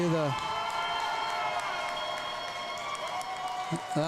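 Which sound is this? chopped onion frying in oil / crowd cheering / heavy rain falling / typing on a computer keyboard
crowd cheering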